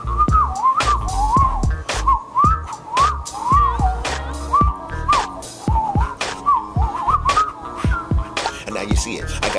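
Someone whistles a bouncy, rhythmic melody in short swooping phrases over a pounding hip-hop beat with sharp percussive hits.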